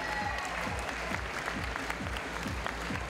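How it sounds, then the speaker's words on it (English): Audience applause for a climber at a bouldering final of a climbing festival: a steady, dense wash of many hands clapping, fairly distant and even throughout, with no talk over it. "Give her a big round of applause."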